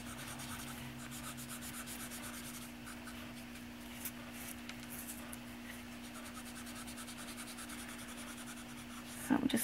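A Copic marker glides over paper in soft, steady scratchy strokes, laying down an even base coat of skin colour; close and quiet, with a low constant hum behind it.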